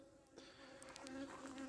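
Honeybees buzzing at a hive, a steady close drone of many wings with a few louder passes by individual bees, no voices.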